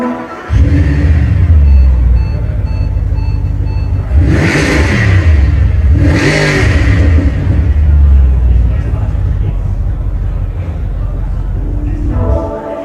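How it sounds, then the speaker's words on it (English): In the Forza Motorsport 4 video game, a car engine starts and then revs hard twice before settling into a loud, steady rumbling idle, up close, with talk over it. "you can reach your hand out and start the car up"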